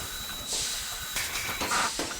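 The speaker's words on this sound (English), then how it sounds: "My Stanley steam lift. It makes traversing these cumbersome stairs a breeze." A Stanley steam lift in the game Adventures of Bertram Fiddle gives off bursts of airy steam hissing over a low mechanical rumble, several surges rising and falling in quick succession.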